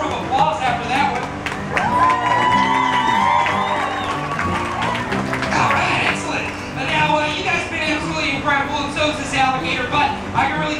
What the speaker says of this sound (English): I usually get a thunderous roar of applause after that one.